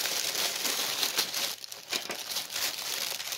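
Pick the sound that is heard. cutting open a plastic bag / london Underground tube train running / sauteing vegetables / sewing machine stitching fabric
cutting open a plastic bag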